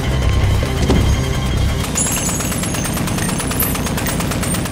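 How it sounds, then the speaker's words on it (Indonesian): Rapid bursts of automatic gunfire in a film rattle continuously, loud and close, with sharp repeated cracks over a dense, booming background. "Mereka kembali melayangkan tembakan"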